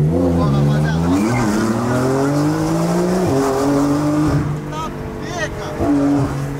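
A Porsche 991 accelerates hard in a street race, its loud engine note rising steadily through the gears with brief dips at shifts, close and continuous, while voices talk over it.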